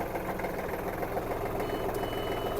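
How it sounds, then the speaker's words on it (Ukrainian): A Kubota L1-215 Japanese mini tractor engine idles steadily just after starting, a close, even diesel rumble with a fast knocking beat and no voices. "І трактор завівся досить легко"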